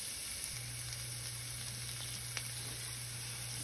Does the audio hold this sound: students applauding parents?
no